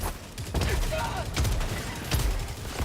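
Slugger shotgun blasts in Helldivers 2 on a difficulty 9 mission, several heavy booming shots spaced about a second apart amid game battle noise, with a voice talking faintly underneath.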